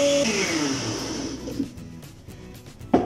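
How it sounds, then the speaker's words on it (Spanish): A blender whirs loudly as it mixes a vanilla milkshake made with a splash of vanilla extract, the motor pitch dropping as the blend settles, ending with a short clunk. "Listo, a la licuadora."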